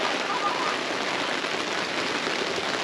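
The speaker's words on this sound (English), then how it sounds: "We're getting plenty of rain today." Steady rain pours down around a campsite, a dense, even hiss of drops striking surfaces that stays loud and continuous throughout with no gaps.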